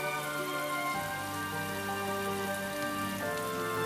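Steady rain pours in the video game Atelier Ryza 2, a dense, even hiss of drops on surfaces that stays constant throughout with no voices over it.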